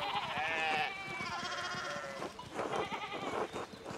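Sheep bleat on a farm in the video game Pentiment, with a wavering bleat near the start and more bleating and soft farmyard bustle after it, fairly quiet overall.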